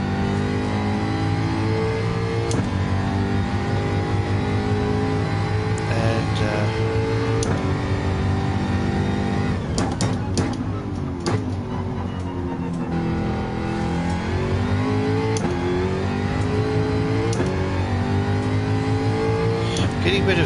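Jaguar F-Type engine in Gran Turismo 7 sim racing, a steady loud engine drone with rising and falling revs throughout, shifting pitch around the middle, with a voice talking over it at times.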